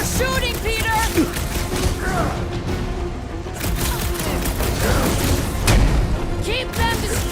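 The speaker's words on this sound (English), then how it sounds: "Peter, shoot now. We need to keep them separated." Gunfire and blasts from the Guardians of the Galaxy video game, dense booms and mechanical clatter running steadily under continuous game music and effects, with voices heard in the mix.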